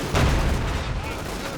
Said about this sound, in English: Rolling ahead, machine guns firing.